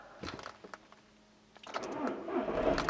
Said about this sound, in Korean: 바로 시동 걸어보겠습니다.